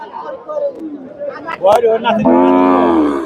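A local-breed Shahiwal dairy cow gives a long, loud moo near the end, with chatter and voices of a cattle market in Chandaikona, Sirajganj, in the background beforehand.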